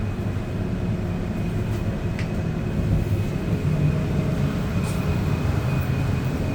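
An Exo commuter train rides along with a steady low rumble and rolling wheel noise, a constant interior drone with a faint high whine and occasional light clicks, no voices.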